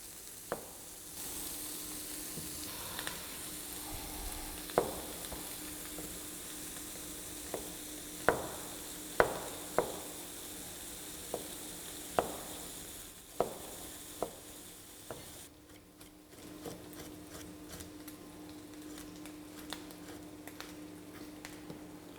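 Pork fat (salo) fries gently over low heat in a pan, a faint, steady sizzle broken by scattered light clicks and scrapes as it is stirred.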